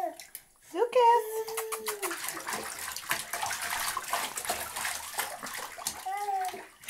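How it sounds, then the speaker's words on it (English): A young child splashes and plays in bathtub water, steady sloshing with bursts of splatter close by, while the child vocalizes and babbles over it. "Mommy and Daddy put me in the bathtub and I start playing."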